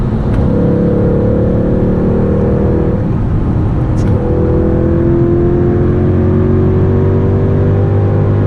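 A car engine pulls hard and steadily while racing a Ferrari, a loud, continuous close roar with rising pitch, briefly easing around mid-run before climbing again.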